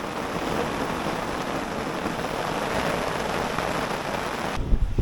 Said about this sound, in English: The wind's died down a bit, but the rain is just insane.